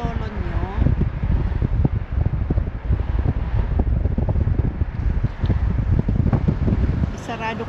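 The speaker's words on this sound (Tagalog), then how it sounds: "maingay yung hangin" Strong, noisy wind buffets and roars against the microphone outdoors in New Zealand, steady and loud, while a person talks over it throughout.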